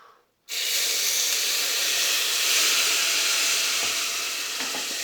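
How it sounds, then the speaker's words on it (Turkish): Cold water hits hot semolina halva in a home kitchen pan, bursting into a loud, sustained steam hiss and sizzle that starts abruptly and holds steady. "Bunu koyarken dikkatli olun çünkü bayağı bir buhar çıkabiliyor."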